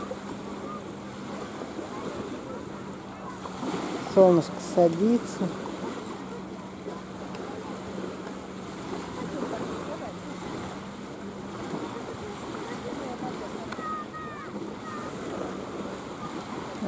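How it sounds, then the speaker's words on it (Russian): Gentle, continuous wash of small Black Sea waves at an evening beach in Anapa, with wind noise and a voice speaking briefly near the start. "Очень красиво, небольшие волны."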